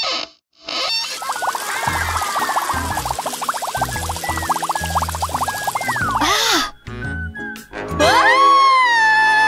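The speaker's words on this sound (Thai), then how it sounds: "น้ำไหลแล้ว" Water rushing out of a pipe just unclogged, a steady loud flow over several seconds with bubbling and whistling tones, broken by short pauses and ending in cartoon-like sound effects.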